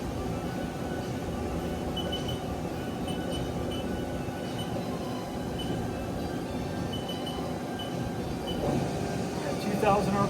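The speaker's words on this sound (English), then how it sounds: "Now we'll go ahead and run the spindle." A 2002 Haas Mini Mill CNC vertical machining center runs its spindle at 1,000 RPM, giving a steady, continuous mechanical whir with a broad hum, close and constant throughout.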